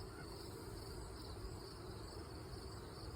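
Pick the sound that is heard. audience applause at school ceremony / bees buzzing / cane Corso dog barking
bees buzzing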